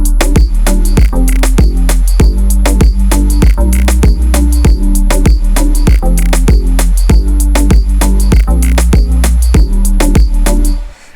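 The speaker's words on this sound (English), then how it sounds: "The drums sound like this." Punchy drums in a music production play alone at full volume, with heavy kicks and sharp snare hits in a tight, repeating dancehall rhythm that cuts off abruptly.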